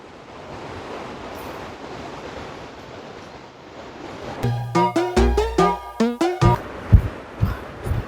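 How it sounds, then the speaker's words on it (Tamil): Agaya Gangai waterfall in the Kolli Hills, a broad steady roar of falling water heard close by, later partly covered by louder music. "அருவியோட சவுண்ட் பக்கத்தில் கேட்டுகிட்டே இருக்குங்க."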